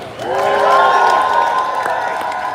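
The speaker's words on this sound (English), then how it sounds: "Can we get an applause for Climate Action Network International?" An audience at a climate conference award ceremony applauds, dense clapping and some cheering swelling quickly and then holding, with a sustained sung or tonal voice rising over it.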